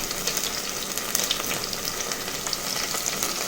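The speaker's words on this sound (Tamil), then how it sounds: "வெங்காயத்தை நல்லா பொன்னிறமா வறுத்து எடுத்துக்கோங்க." Onions frying in a pan for a mixed vegetable Pongal kuzhambu, giving a steady close sizzle with light stirring throughout and no voices.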